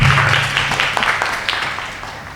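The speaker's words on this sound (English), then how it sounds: "Round of applause." Audience applauding at an International Women's Day event venue as a speaker takes the stage, steady clapping from a crowd that gradually fades, with a voice briefly audible beneath it.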